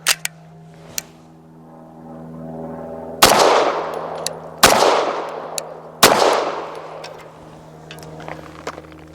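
A BUL Armory TAC PRO 5-inch pistol fires Hornady Critical Duty 135 grain rounds outdoors: three loud, sharp shots spaced about 1.5 seconds apart, each ringing briefly over a steady low hum, with faint clicks between.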